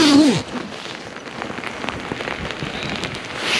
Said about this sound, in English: We got the rain.